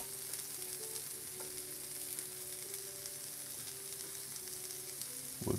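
Potatoes and mushrooms fry in butter in a pan, a soft, steady sizzle and crackle close by with faint stirring scrapes and a clack near the end.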